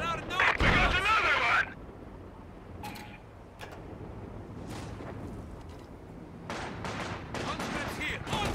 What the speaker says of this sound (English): Infantry, infantry firing on our vehicle.